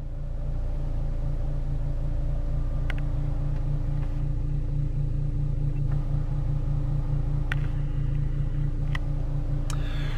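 A 2005 Ford Fiesta ST engine idles steadily at close range, a constant low rumble with a faint hum and a few light clicks, running alone without talk.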